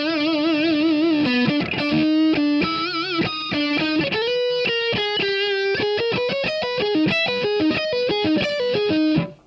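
Distorted electric guitar playing a fast instrumental line, phrased with hammer-ons and vibrato on held notes, loud and continuous with no talking, stopping abruptly at the end.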